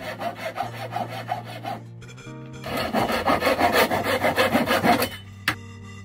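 A bamboo cane is cut for a quena flute in F, giving steady rubbing, rasping saw strokes at close range that build to a louder sustained stretch before a sharp final crack.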